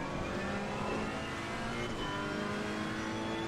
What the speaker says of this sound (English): enjoy the car sounds in this Ferrari 488 GT3